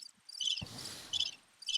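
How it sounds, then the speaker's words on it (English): Cricket chirping sound effect, loud high-pitched trilling bursts that pulse on and off with a few brief pauses, heard alone without talk. "Play the crickets."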